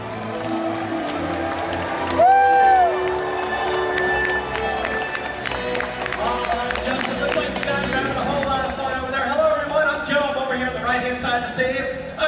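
An audience at an orca show cheers, whistles and claps in a broad wash of crowd noise, with a whistle tone rising and falling early on and amplified voices mixed in.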